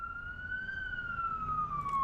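An ambulance siren wails in a slow, smooth rising-and-falling tone, fairly loud and steady over low traffic rumble.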